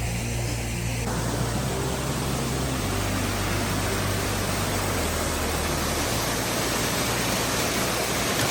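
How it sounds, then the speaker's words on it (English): A waterfall in the Black Forest mountains rushes with a steady, dense roar heard close up and alone, unchanging throughout. "So this is the waterfall."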